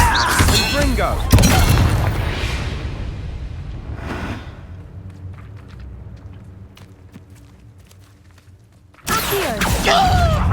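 Blasting-spell explosions from the Hogwarts Legacy game, a few loud bursts and thuds near the start and again at the end, with quieter combat ambience between them and talk in places.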